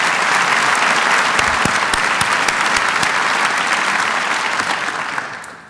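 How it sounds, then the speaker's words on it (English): Dense, sustained applause from a large audience at a university State of the University address, steady and loud before tapering off at the end. "Let's give them one more round of applause."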